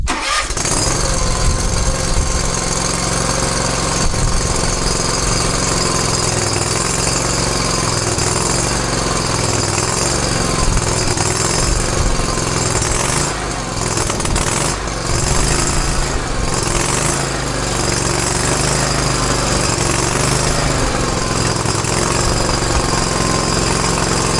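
A Kawasaki engine on a zero-turn mower cranks cold with the choke and sputters to life, then runs loud and rough with a steady roar, close by and uninterrupted by voices.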